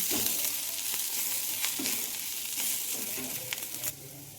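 Chopped vegetables and coriander leaves are tossed together for masala muri, with a soft frying sizzle and a few scraping stirs at an even, close level.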